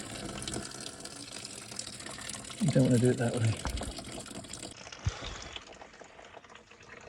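Boiling hot water drains and splashes from a disconnected hose on a bracket-racing Ford Mustang, a steady liquid gush with a louder burst in the middle, while someone talks close by.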